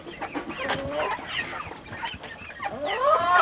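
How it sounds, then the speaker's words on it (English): Backyard chickens cluck and chatter nearby while pecking at greens, a busy overlapping stream of short clucks and squawks with some quail among them. "Okay, chickens."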